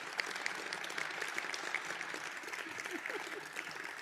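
Crowd applause at a Hanover, New Hampshire town meeting: a sustained, even wash of many hands clapping, moderately distant and soft, with no speech over it.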